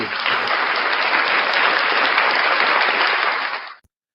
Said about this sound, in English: Anyway, round of applause for Frauditor Mania.